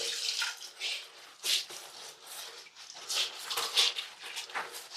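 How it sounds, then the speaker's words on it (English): Water splashes and trickles as a sponge float is squeezed over a bucket, in a series of uneven, close wet bursts and drips. "I have a bucket with water in and I've got this sponge float. I'm just going to take some of the moisture out of it."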